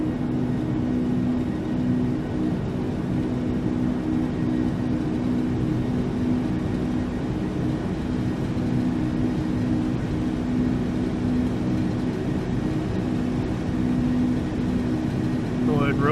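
An L-1011 TriStar rolls down the runway for takeoff in the FSX flight simulator, a steady, dense engine roar with a low hum, continuous for about sixteen seconds.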